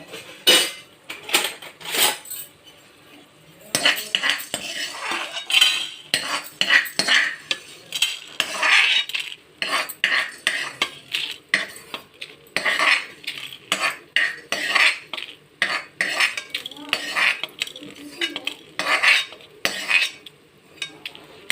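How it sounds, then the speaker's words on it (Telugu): Metal utensils scrape and clink against a pan and bowl as fried food is transferred into a bowl in a home kitchen, with repeated irregular clattering strokes that are close and fairly loud and no speech. "ఇప్పుడు మనం గిన్నెలో తీసేసుకుందాం."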